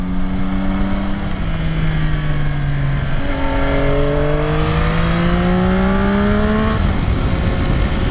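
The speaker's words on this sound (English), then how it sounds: "give it a bit of gas, and you can see it has pretty good response" A 2022 Yamaha Tracer 9 GT motorcycle engine revs and accelerates on country roads, its pitch climbing through several rising sweeps with brief drops between gears, loud and close over steady wind rush.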